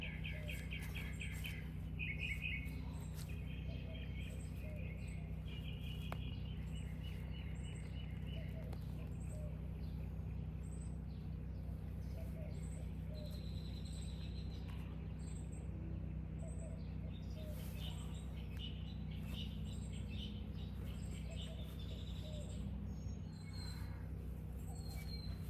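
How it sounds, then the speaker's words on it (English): Garden birds chirp and tweet in scattered short phrases over a steady low background hum, fairly faint and distant, with a brief voice at times. "Listen to the birds."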